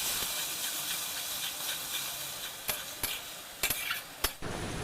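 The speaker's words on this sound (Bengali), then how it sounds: "এবার ভাজা হয়ে গেছে, পেঁয়াজ বাটাটা, টমেটো বাটাটা দিয়ে নেড়ে নিচ্ছি।" Ground onion and tomato paste stirred into hot oil with whole garam masala, bay leaf and dried chilli in a pan for an egg-and-katla fish curry: a steady close sizzle with a few sharp spoon scrapes and clicks.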